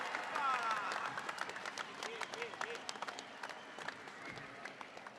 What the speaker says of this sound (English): So a big cheer.